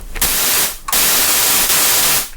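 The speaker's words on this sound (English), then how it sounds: "And then you have noise, this being white noise." Harsh, loud white noise from a Roland Zenology Pro synthesizer hisses in bursts, cutting out briefly twice before resuming at full strength.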